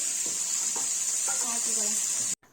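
Fish frying in a wok with very little oil, giving a steady close hiss of sizzling with faint background murmurs, cutting off abruptly near the end.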